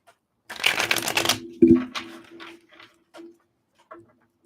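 A deck of tarot cards being shuffled up close: a riffling flurry lasting about a second, then a soft thud as the deck is tapped, followed by a few faint scattered clicks.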